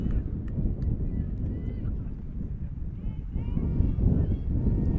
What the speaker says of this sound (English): That strong wind gust continue.